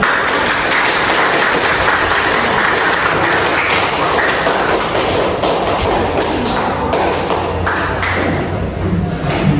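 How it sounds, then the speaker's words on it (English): Loud, continuous clapping from a classroom of students fills the clip, a dense patter of many hands with no gaps. "Leave a applause to Farid."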